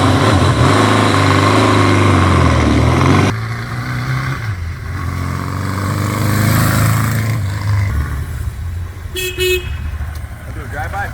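A 1982 Suzuki GS1100L motorcycle, needing carburetor work, runs with a loud, close engine drone that drops in level partway through, then keeps rumbling more softly with brief higher tones near the end.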